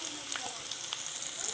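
Shallots frying in a hot pan give a steady, dense sizzle with scattered crackles throughout, continuous and fairly close.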